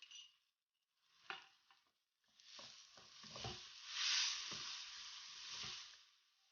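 Chopped onions, garlic, green chilies and ginger sizzle and crackle in hot oil in a karahi while a utensil stirs and scrapes the pan, steady frying with occasional clinks.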